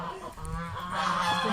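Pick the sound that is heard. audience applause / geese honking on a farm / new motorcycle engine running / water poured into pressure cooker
geese honking on a farm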